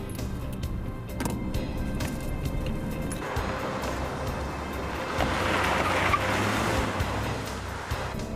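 Getaway car with no plates in a police pursuit, a steady engine rumble and road noise swelling as it drives close by, with scattered clicks and knocks and no talk.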